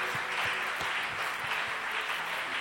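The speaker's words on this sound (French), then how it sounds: "acclamons pour le Seigneur encore une fois de plus" A church congregation at an intercession service applauds for the Lord, steady rhythmic clapping filling the room, loud and close with no voices on top.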